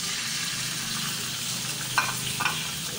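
Chicken frying in a couple of spoons of oil in a frying pan gives a steady, even sizzle, with two brief metallic clinks from a utensil near the end.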